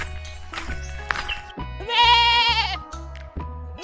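A farm goat bleats loudly and close up, one long wavering cry in the middle flanked by shorter bleats, with a steady low hum underneath.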